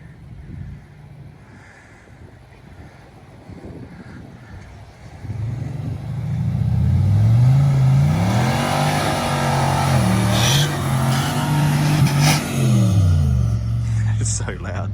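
A supercharged Nissan Y62 Patrol climbs through sand in third gear, its engine rising from a low idle to a loud, sustained rev that swells and surges, with a voice talking over it.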